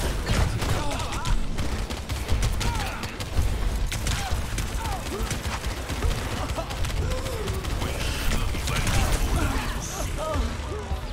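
Charged-shot gunfire in Overwatch 2 crackles in dense bursts over a busy mix of mechanical clatter and effects, loud and continuous, with occasional voices.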